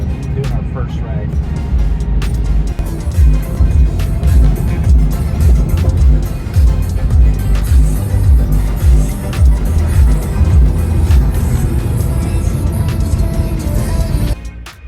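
Tesla Cybertruck Cyberbeast cruising on a Houston highway: a loud, steady low rumble of road and wind noise runs throughout, with people talking over it.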